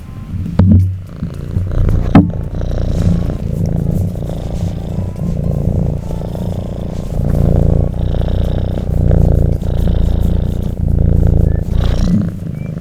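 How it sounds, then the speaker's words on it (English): Kitten purring right against the microphone, a loud, close, continuous rumbling purr with rhythmic swells, opening with a couple of bumps and thuds. "my kitten knocked into my audio recording device on his way to force me to cuddle him"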